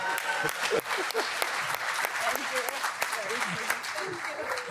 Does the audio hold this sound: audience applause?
yes